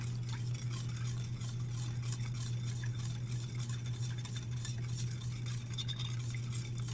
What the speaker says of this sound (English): now we're whisking this